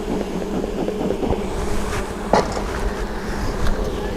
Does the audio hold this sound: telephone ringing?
no